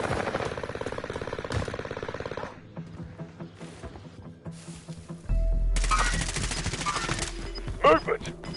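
Heavy gunfire in Call of Duty Warzone: dense, rapid automatic bursts up close, then quieter scattered shots, then another loud sustained barrage with rumble, game voice callouts mixed in.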